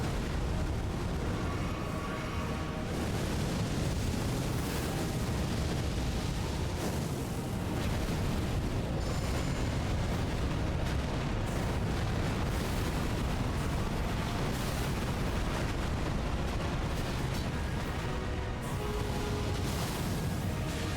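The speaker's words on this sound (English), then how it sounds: "Bro is exploding all over the place." Elden Ring boss battle with explosions and fire, a dense, loud, unbroken roar of blasts and crackling flames lasting the whole stretch.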